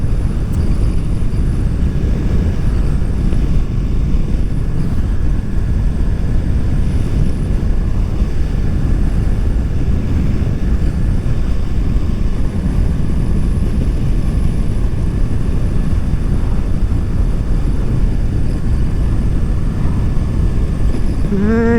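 Honda NC750XA motorcycle ridden on the road, a steady loud engine drone and wind rush throughout with no break, heard from the rider's position.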